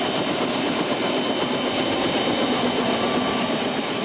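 Steady, loud roar of a helicopter engine heard from inside the cabin during a flight over the outskirts of Dubai, consistent and unbroken throughout.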